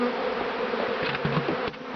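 A steady, close insect buzz fills the air, like many bees droning together at a hive, with a few louder passes near the end.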